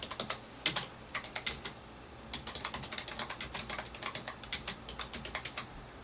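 Soft, close keystrokes tap out irregular bursts on a computer keyboard while a job application is filled in, quiet clicks with brief pauses between runs and no talking.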